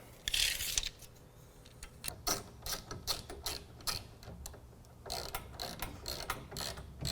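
Ratchet tightening bolts that hold a load bar to the uprights of a BakFlip CS truck bed rack, with a quick burst of clicks followed by repeated rhythmic ratcheting strokes, close and steady, no talking.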